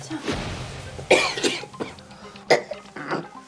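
A man who has smoked a pack of cigarettes a day for twenty years coughs harshly several times, in bursts spread across a few seconds. The coughing is close and loud, with no talk in between.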